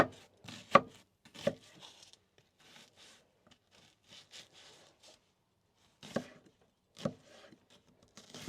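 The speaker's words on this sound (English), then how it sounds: "we're gonna dice up some cilantro" Kitchen knife chopping cilantro and onion on a cutting board for carnitas tacos: sparse, close, sharp strikes in small clusters, with quiet scraping between and long pauses.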